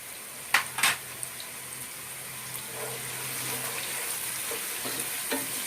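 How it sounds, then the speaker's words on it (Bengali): Chopped onions with a pinch of salt fry and get stirred in a pan for a beef vuna curry, a faint, steady sizzle with a few soft scraping clatters near the start. "পেঁয়াজটা সুন্দর তখন ভাজা হবে।"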